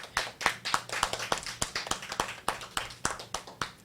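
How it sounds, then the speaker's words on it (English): Students applaud themselves at a school gathering, a rhythmic series of distinct, sharp clap bursts that sound like a modest group clapping in unison, fairly close and steady, with no talk. "So I would like all of you to give yourselves a round of applause."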